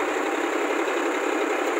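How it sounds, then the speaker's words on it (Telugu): Solis 4215 tractor engine running on a demo with a heavy-duty seven-bottom plough, a steady, loud mechanical drone with a constant, even texture and no voices. "ఒక్కసారి మన ట్రాక్టర్ చూడండి ఎంత బాగా జరుగుతుందో"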